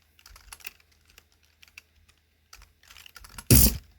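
Keystrokes tap out on a computer keyboard while HTML is being written, scattered soft clicks building to a dense, loud burst of typing near the end.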